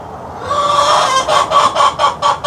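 Hen clucking loudly in the morning before laying an egg, a run of about five rhythmic squawking calls that build up after a steady, droning cackle, close and prominent with no speech.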